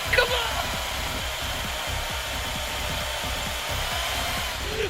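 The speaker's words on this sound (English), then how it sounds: "Hit the drill! Hit the drill!" A drill whirs in a heist-style video game, a steady mid-pitched motor drone running the whole time with rapid rhythmic chattering pulses underneath, while excited voices shout over it.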